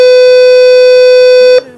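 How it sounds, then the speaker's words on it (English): Realcare Gen 6 infant simulator doll giving a loud, steady electronic beep as its last battery goes in, one long, piercing tone held for about a second and a half before cutting off abruptly. "Baby will beep."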